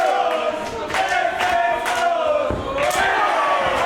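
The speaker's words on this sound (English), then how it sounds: "Crowd in Berlin are cheering him on." Wrestling crowd in a Berlin arena chanting and cheering loudly, rhythmic pulses of massed voices with rising shouts, filling the space without pause.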